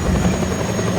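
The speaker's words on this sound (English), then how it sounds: "that helicopter got behind me real fast" A helicopter in the video game Just Cause 2 roars close and loud with a constant rotor drone, unbroken through the whole moment.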